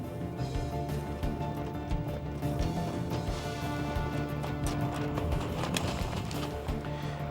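Hooves of an Icelandic horse clip-clop in a steady, even rhythm across the whole stretch, moderately close, with no voices over them.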